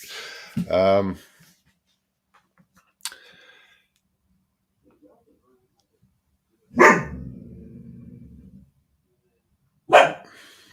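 Dogs bark indoors in sharp bursts as people arrive outside the door, with one loud volley near the start and later short bursts, separated by quiet stretches and a stretch of low rumbling.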